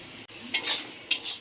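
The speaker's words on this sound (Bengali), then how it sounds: "দিয়ে এবার একটু নেড়ে নেব" A spoon stirs green papaya and chickpea curry in a pan, giving two short scraping clatters against the metal with soft shuffling in between, close and moderately loud, with no talking.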